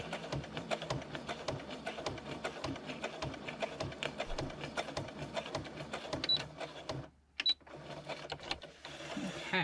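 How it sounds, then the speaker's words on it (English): A sewing machine runs steadily, stitching through a handmade junk journal specimen card, its rapid needle clatter pausing briefly near the end before a short restart, fairly quiet and close. "it's almost like slow stitching with your sewing machine"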